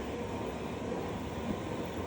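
Arctic Express passenger train rolling on single track near Kiruna, a steady loud rumble of wheels and carriage noise filling the whole stretch with no voices.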